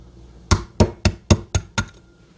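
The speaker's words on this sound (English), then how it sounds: "what I'm going to do is crack the egg in the middle here" Six sharp cracks of an egg struck against a bowl's rim, evenly spaced about a third of a second apart, close and crisp with no talking.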